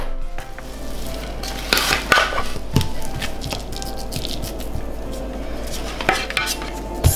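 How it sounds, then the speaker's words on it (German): Sticky cinnamon star dough scraped out of a Thermomix TM5 mixing bowl, with repeated scraping, knocks and clatter of utensil against the bowl over a constant background hum, no talking. "ich habe den Teig jetzt auch relativ gut aus dem Topf gekriegt"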